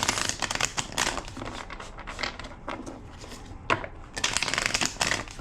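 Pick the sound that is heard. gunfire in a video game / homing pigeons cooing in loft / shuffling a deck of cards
shuffling a deck of cards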